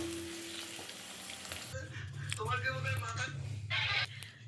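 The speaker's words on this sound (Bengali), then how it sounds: "আলু ভাজা করছি।" Potatoes frying in a pan give a steady sizzle, with some scraping or stirring noises close by and soft background sounds.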